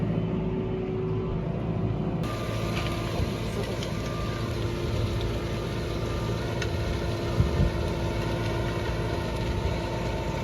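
Tractor engine pulling a disc through sandy soil in a soybean field, a steady low rumbling drone under light strain, continuous and close, with faint higher whine and no talking.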